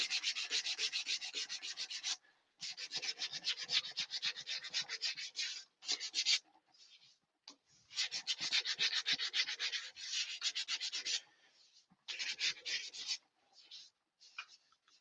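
Sandpaper rubs back and forth over olive wood on a woodturning piece in long scratchy strokes, stopping briefly between passes, close and fairly loud.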